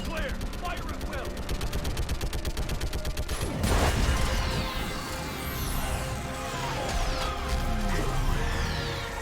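Sustained automatic gunfire in Mass Effect 3 rattles in a fast steady stream, then a loud impact blast hits, followed by lingering debris, whooshes and scattered shots.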